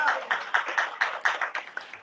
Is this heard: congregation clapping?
yes